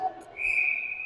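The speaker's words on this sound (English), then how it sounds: "That's going to be a whistle." A referee's whistle sounds at a youth U16AA ice hockey game: one sustained, shrill blast, loud and fairly close, following a short muffled knock.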